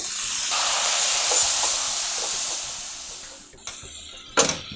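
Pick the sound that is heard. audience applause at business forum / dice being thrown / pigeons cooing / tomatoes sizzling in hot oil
tomatoes sizzling in hot oil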